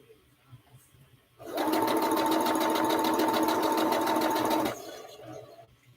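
A sewing machine stitches a quilt block seam in one steady, close burst of about three seconds, with quiet room sound and faint talk around it.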